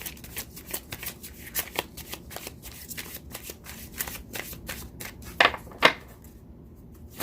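Rapid riffle of tarot cards being shuffled, soft crisp flutters repeating over several seconds with a couple of sharper snaps near the end.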